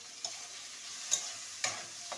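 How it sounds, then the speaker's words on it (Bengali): Fried potatoes sizzle steadily in a pan while a utensil stirs them, giving four sharp scraping clicks spaced unevenly over the soft continuous frying hiss. "একটু নেড়ে দিই আলু ভাজাটা।"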